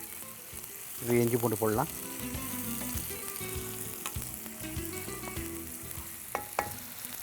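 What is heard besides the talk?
whole spices and onions frying in a pan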